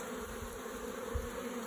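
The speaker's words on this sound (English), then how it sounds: "These bees swarmed out of this box right here." Honey bees that have swarmed out of a hive box, a soft steady buzzing drone heard from nearby and continuing evenly without a break.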